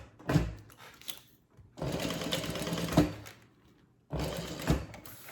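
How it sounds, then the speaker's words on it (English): A sewing machine top stitches a handbag in three separate runs, each a close, rapid mechanical whirring burst lasting about a second, with quiet pauses between. "Let's go ahead and top stitch just like we did the other side."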